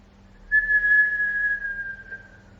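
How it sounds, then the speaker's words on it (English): A single thin, steady whistle of breath inhaled through pursed lips during a yoga breathing exercise, held for about a second and a half, fading gently in a quiet room. "inhale through pursed lips with the sound of the whistle."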